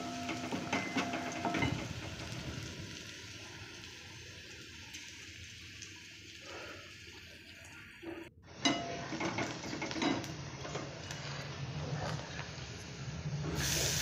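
Chopped onion sizzling in a hot pan while soybean upma is cooked, a steady broadband hiss and crackle that runs unbroken throughout, getting brighter and a little louder partway through, with no voices.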